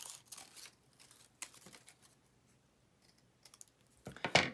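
Scissors snipping red paper circles for a paper wreath, a few short crisp cuts and paper rustles with quiet gaps between, ending in a louder burst of cutting and crinkling close by.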